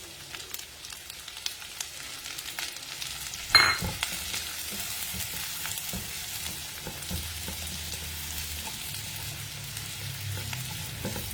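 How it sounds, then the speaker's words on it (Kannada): Onions sizzle steadily in a hot pan, with a sharp clink of a utensil early on and occasional stirring. "ಸೊ ಇವಾಗ ನಾವು ಈರುಳ್ಳಿ ಹಾಕ್ಕೊಳ್ಳೋಣ."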